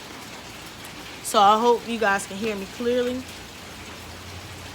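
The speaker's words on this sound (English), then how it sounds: "if you guys hear all the rain in the background" Steady rain falls outdoors as a soft, even hiss that runs throughout, while a person speaks briefly over it near the middle.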